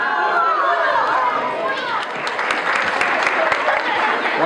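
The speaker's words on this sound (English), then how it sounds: "One last round of applause, if we could, from Archer and your associates." Audience at an elementary school family fun night applauds in a sustained, dense round of clapping mixed with crowd chatter, steady and fairly loud throughout.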